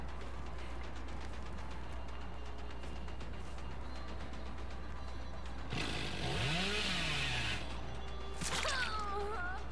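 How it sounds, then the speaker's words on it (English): In a video game, a chainsaw whines in a steady buzz, then rises and falls in pitch as it revs up loud and is let off twice, heard over a constant low hum. "You just fake the chainsaw."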